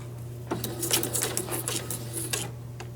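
A sewing machine runs a straight stitch and zigzag through book pages, with a steady low motor hum under bursts of rapid needle clatter in short runs.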